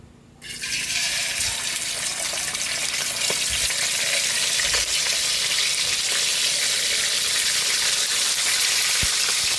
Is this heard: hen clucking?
no